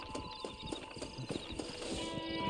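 A horse in Red Dead Redemption trots with rapid, even clip-clop hoofbeats against a steady ambient hum, with no talk over it.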